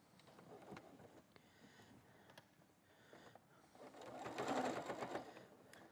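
A sewing machine stitches quilt binding along the edge, its quiet steady whir running throughout and swelling louder near the end, with soft handling noises.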